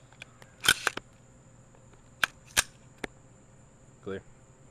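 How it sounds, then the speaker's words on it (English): Custom-built AR-15 rifle being checked clear: a few sharp metallic clicks and clacks of the action in separate bursts, close up, followed by a brief voice. "let me check and see if the weapon's clear"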